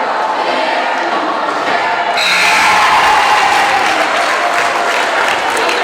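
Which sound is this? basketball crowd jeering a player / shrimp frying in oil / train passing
basketball crowd jeering a player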